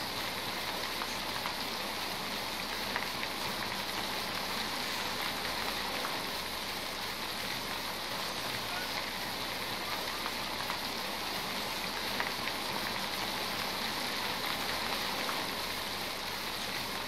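Constant rain in a Garry's Mod horror village map, an even, hissing downpour of raindrops on surfaces running unbroken at a steady moderate level, with no talking.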